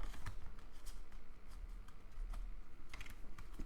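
Tarot cards being shuffled by hand at close range during a love reading, a quick run of crisp riffling and flicking bursts.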